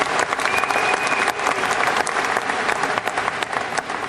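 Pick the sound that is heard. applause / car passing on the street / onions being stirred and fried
applause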